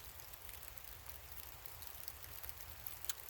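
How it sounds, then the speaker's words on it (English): Light rain beginning to fall outdoors in the woods on hunting opening day, a soft, steady patter of drops with faint scattered ticks, quiet and close. "It's starting to rain."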